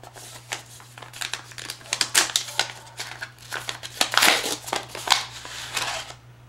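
A paper envelope pulled from a pocket and handled during a card trick, a steady stretch of close crinkling and rustling with scattered sharper crackles, no speech.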